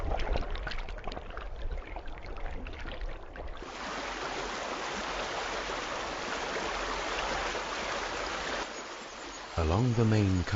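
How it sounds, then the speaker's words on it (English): The calm current of the White River at Plitvice Lakes, heard as a steady, broad watery rush that stays even throughout, with a narrating voice over the flow near the end. "the White River is less fierce and has a calmer current flowing through wide sunny glades"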